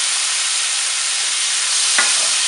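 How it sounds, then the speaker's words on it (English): Bacon, onions and corn fry together in a hot pan, giving a loud, steady broadband sizzle with a brief stirring scrape near the end and no talking. "Listen to that sizzle."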